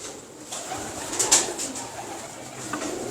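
A teddy pigeon coos up close in low, rolling throaty phrases, with a brief flutter midway and faint background noise and no talk.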